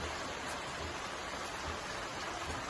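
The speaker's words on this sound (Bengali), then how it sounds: "আর একরকম চব্বিশ ঘন্টা বৃষ্টি হচ্ছে বললে চলে" Heavy, continuous rain pours steadily around a house with a veranda, making a dense, unbroken hiss that holds the same loudness throughout with no voices.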